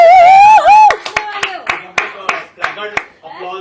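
A small group gives a few sharp, spaced-out claps indoors on a podcast set with a live audience, following a raised voice at the start and trailing off irregularly.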